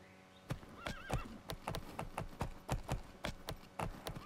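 Rhythmic clip-clop of a galloping horse in the Horse Club Adventures 2: Hazelwood Stories video game, steady close hoofbeats with a brief whinny early on, no talk over it.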